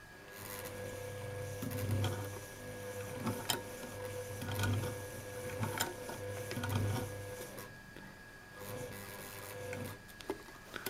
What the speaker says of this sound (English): Because of this one has no reverse, I'm doing some backstitching like this.